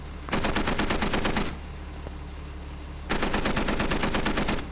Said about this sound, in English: Looks like some blind shooting here.